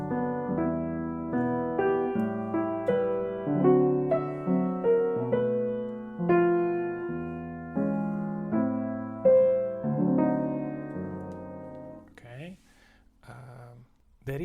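Solo piano plays the bridge section of a jazz tune, a close, moderately loud run of chords and melody notes with decaying attacks that thins out near the end.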